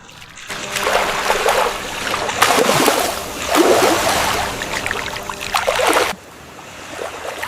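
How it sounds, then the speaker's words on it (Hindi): Seawater scooped up by hand and splashed over faces at the shore comes through in loud, repeated bursts of sloshing and spattering, two long washes of splashing with trickling between them. "अपनी हथेली से समुंदर का पानी उठाओ और हमारे मुंह पर छिड़को।"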